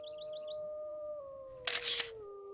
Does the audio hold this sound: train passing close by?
no